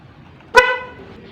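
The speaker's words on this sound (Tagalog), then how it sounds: "tapos itong busina" A single short honk sounds from the horn of a Honda TMX155 motorcycle, loud and close, with a brief ringing decay and no talking.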